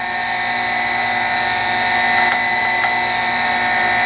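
A lathe thread-cutting tool bit pressed against a bench grinder wheel, giving a steady, loud high-pitched whine with a continuous grinding hiss and a couple of brief scraping touches, with nobody speaking.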